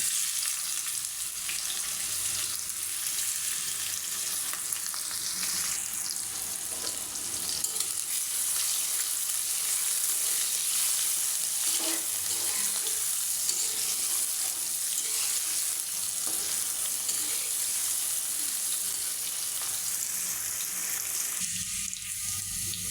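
Chopped onions sizzle steadily in hot oil alongside torn bay leaves for a Bengali chicken and dal curry, a dense, continuous frying hiss with faint stirring scrapes, close and unbroken, with no talking.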